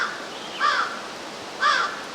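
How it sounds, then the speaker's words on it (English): A crow caws twice outdoors, about a second apart, fairly faint against quiet background hiss in a wooded setting. "Well, the crow is a definite answer."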